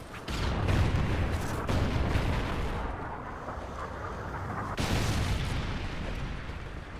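Trinity rocket strikes in the Call of Duty Ghosts video game, heavy rolling explosions booming in two loud waves with a sustained roar and debris rumble between them, with no voices over them.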